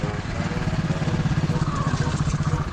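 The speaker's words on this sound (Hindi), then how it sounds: "देख लो आगे मोटरसाइकिल" A motorcycle engine running nearby with a steady, pulsing throb throughout the short stretch, loud and close.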